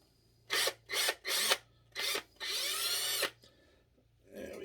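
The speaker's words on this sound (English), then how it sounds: "pre-drill that hole a little bit," A power drill pre-drills a hole in wood in a small shop, running in several short bursts followed by one longer pull, each with a whirring bite and a brief pause between.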